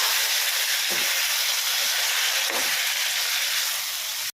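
Tomato pieces fry in a hot pan for a tomato pachadi, giving a steady, loud broadband sizzle that holds evenly throughout, with a couple of brief stirring disturbances and no talking.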